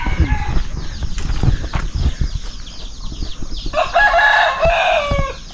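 Chickens cluck and squawk nearby, and a rooster crows loudly partway through over the ongoing flock chatter.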